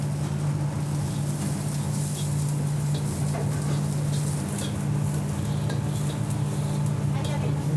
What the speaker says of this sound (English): Chef is immediately getting started on the next process, the next fry.